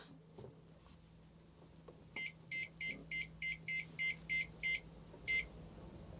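Keypad beeps from a motorhome-specific microwave fitted in place of a Dometic Tec Tower gas oven: a series of about nine short, evenly spaced electronic beeps, then one more after a pause, clear over a low steady hum.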